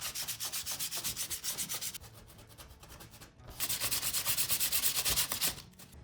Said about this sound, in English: I have my 220 sandpaper and I'm gonna distress this